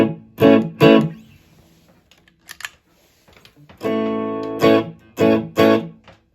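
Electric guitar played through a Blonde amp simulation pedal on a budget worship pedalboard, heard as a few short strummed chords and bursts with near-silent gaps, then a longer sustained chord with a bright, slightly distorted edge.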